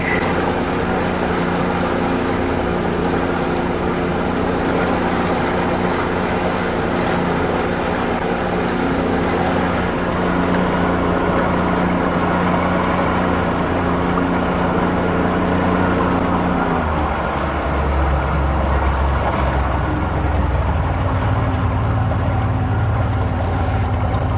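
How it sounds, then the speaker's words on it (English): A Mercury 60 hp outboard boat motor runs steadily at low idle with a constant rumbling drone, close by, its pitch shifting slightly partway through; no voices. "Motor sounds good. Idling nice."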